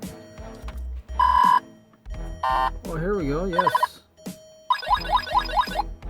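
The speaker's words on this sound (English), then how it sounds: "Radar detector mounted up into the vehicle and plugged in" A Whistler Pro radar detector mounted in a vehicle, playing through a replacement toy speaker, cycles through loud electronic alert tones: buzzing beeps, warbling sweeps and rapid rising chirps in separate bursts, with someone speaking briefly between them.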